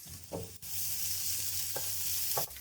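Onions fry in a pan with red chilli powder, turmeric and salt, giving a steady, close sizzle throughout, with a few spoon scrapes and knocks as the mixture is stirred. No one speaks.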